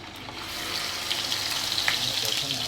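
Hot oil sizzles and crackles steadily in a pan at the start of cooking shutki patuki, a dried-fish dish, with a few brief louder spits over a close, continuous hiss.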